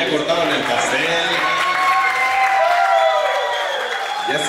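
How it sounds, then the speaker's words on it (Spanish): Applause for a bride and groom right after they cut the wedding cake: steady, dense clapping from a crowd of guests over the whole stretch, with some voices and chatter mixed in beneath it. "A ver que se escuche el aplauso para los novios que ya cortaron el pastel."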